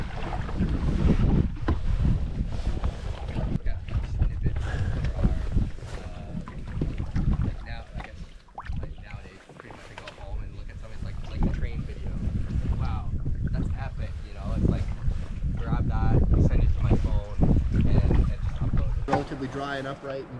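Strong wind gusts buffet the microphone beside a whitewater river during a solo canoe camping trip, a steady roaring rumble, with a person speaking over it.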